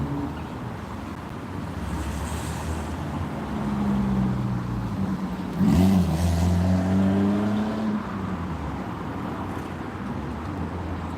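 Morning rush-hour traffic passes by outdoors, a continuous rumble of cars with one engine revving and rising in pitch as it goes past, with wind buffeting the microphone.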